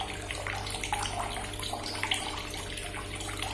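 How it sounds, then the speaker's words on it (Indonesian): A water tap runs steadily with a continuous splashing, gurgling flow, fairly close and unbroken throughout, with no voices over it. "terjadi lagi bunyi keran yang ngocor lagi seperti itu, bahkan lebih keras"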